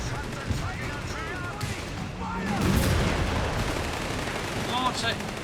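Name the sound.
heavy gunfire in video game Company of Heroes 3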